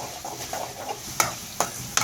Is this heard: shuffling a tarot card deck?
no